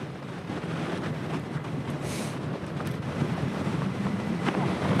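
Strong wind gusts roar during the Marshall Fire in Colorado, a steady broadband rush with buffeting on the microphone. There is a brighter surge around the middle and no talk.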